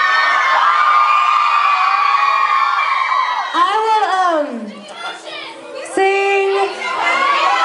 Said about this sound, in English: Can you stop screaming for a second?